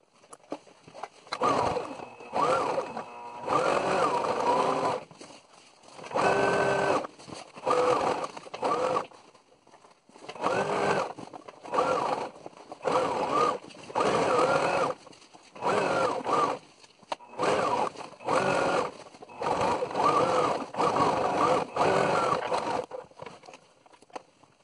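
A straight-stitch sewing machine hemming the edge of a fabric machine cover runs in repeated close bursts of rapid mechanical whirring, each stopping briefly for quiet pauses.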